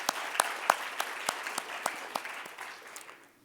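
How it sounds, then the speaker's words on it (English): Applause from a conference audience at the close of a session, a fairly faint crowd of claps with a few sharper hand claps standing out early, tapering off toward the end. "A round of applause to them as well."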